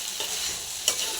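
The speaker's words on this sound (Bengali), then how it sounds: "এইভাবে আমি ভালো করে কষিয়ে নেব, খুব ভালো করে।" Egg and potato curry sautés in hot oil with a continuous sizzle, broken by a stirring scrape and a brief sharp flare of frying near the end.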